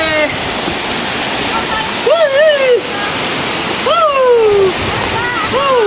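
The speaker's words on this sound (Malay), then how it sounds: "Kita nyampe di air terjun." The Langkuik Tamiang waterfall in Malalak roars as a loud, constant wash of falling water, with voices speaking over it throughout.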